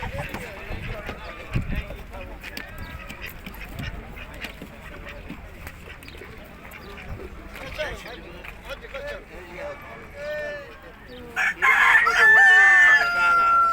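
A rooster crows loudly near the end, with other fowl clucking and quacking throughout beneath steady crowd chatter at a busy poultry market in Sungurlu, Turkey, where ducks and geese are sold.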